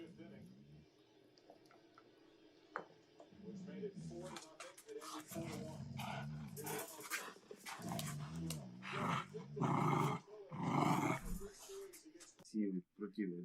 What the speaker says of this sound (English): we keep getting distracted by the dogs